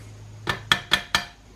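Four sharp metallic taps in a steady rhythm as a small steel punch knocks a little pin out of a motor part during a homemade 2x72 inch belt grinder build, close and ringing slightly, no talking.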